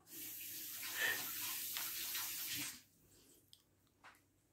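Water runs from a kitchen tap for hands being washed, a steady rush for under three seconds, then it shuts off, leaving a few faint drips and small knocks.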